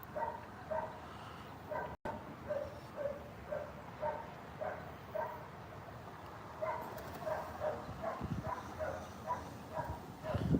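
Several dogs bark in repeated yipping bursts with whimpering between them, steady and fairly close throughout, while a person talks intermittently over the noise.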